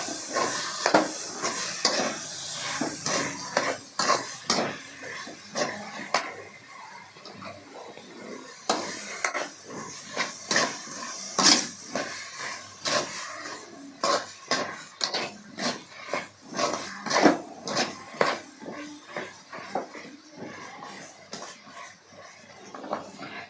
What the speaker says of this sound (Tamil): இது 5 நிமிஷம் வதங்கட்டும்.